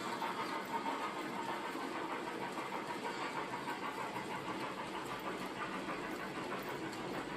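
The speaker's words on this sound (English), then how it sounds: "Here is a mixed freight at 9:07 in the morning, travelling between Heaton Mersey and Roseley." A mixed, largely empty freight train passing between Heaton Mersey and Roseley in the morning, a steady rumbling roll of wagons with engine drone, continuous and moderately distant, no talk.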